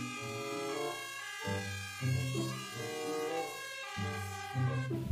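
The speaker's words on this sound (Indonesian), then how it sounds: "ada mobil ambulan." A toy ambulance's electronic siren plays a loud, steady run of stepped two-tone wails that shift pitch every second or so, alone and close to the microphone with no one talking.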